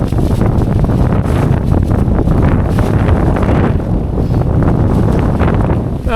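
Strong wind buffets the microphone outdoors beside a waterway near Lake Huron on the North Eastern State Trail, a loud, continuous roar and rumble throughout with no speech.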